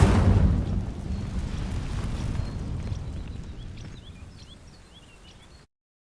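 A fire spell from a Harry Potter video game sets dry vines alight: a deep whooshing burst of flame at the start, then a steady low roar with faint crackles that fades away over several seconds.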